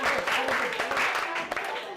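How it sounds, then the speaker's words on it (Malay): A primary school class applauds after a teacher's congratulations. The brief burst of clapping is close, lively and fairly loud, with children's voices mixed in. "Okey, tahniah, tepuk tangan."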